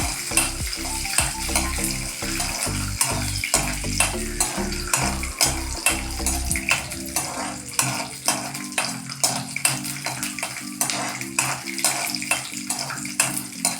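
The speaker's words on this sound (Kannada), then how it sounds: "ಸ್ವಲ್ಪ ಬ್ರೌನ್ ಕಲರ್ ಬರುತ್ತೆ ಹುರಿಬೇಕು ಇದನ್ನ" Ingredients fry in a pan until browned, a steady close sizzle broken by regular scraping and clinking of a spoon stirring against the pan.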